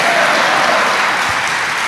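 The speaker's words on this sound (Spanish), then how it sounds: "Vamos, dale un aplauso al Señor" Church congregation applauding during a sermon, a dense and steady wash of clapping from a full room, loud and continuous without a break.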